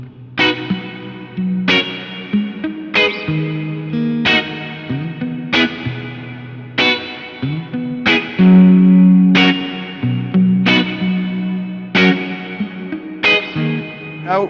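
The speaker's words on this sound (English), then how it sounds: "For memories, we've just got like a really reverb." Electric guitar played through a Fractal unit with heavy reverb and a little delay, sounding a series of distinct chords struck roughly every second and a half, each ringing out into a lush, washed-out tail, alone and upfront.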